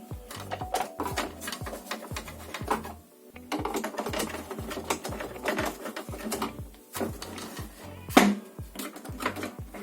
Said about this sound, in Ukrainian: Все, гвинти поставили на місце. Закручуємо. Закручуємо передні.